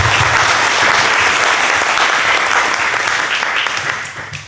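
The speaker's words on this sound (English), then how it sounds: "So let's give them a round of applause." An audience at a museum curators' talk for an art exhibition gives a warm, steady round of applause, loud and close, that fades away over the last second.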